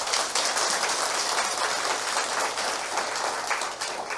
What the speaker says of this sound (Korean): 그럼 자신에게 박수 한번 주십시오.